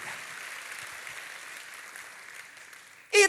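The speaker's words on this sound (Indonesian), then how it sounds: "Tepuk tangannya paling meriah buat Tuhan kita." A church congregation at a New Wine service applauds with a soft, steady wash of clapping that sounds somewhat distant, ending in a brief louder burst.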